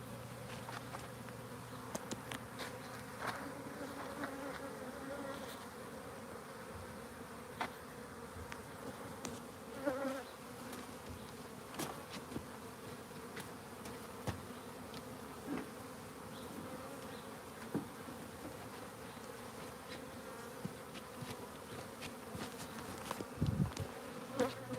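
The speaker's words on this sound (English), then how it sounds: "trying to see if they'll merge with this smaller hive, feral small swarm that we caught" A feral bee swarm merging with a smaller hive fills the air with a constant, close droning buzz, with many overlapping insect hums and occasional louder passes near the listener.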